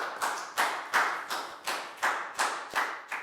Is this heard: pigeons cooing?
no